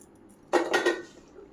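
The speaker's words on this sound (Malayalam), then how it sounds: "എല്ലാം കൂടി ഒന്നുകൂടെ മിക്സ് ചെയ്യാം." A utensil stirs a sardine mixture in a pan, with a brief close clatter of two or three scrapes and knocks and then quiet.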